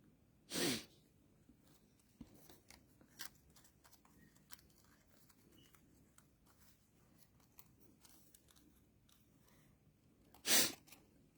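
Two sharp sneezes from a person with a runny nose, one near the start and one near the end, separated by a quiet stretch of faint crafting clicks and snips.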